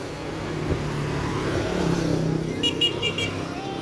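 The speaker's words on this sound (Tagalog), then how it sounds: "Grabe yung traffic." Heavy road traffic with cars and motorcycles idling and creeping nearby, a low rumbling engine drone with occasional revs and brief high horn-like tones, fairly close, with some voices faintly underneath.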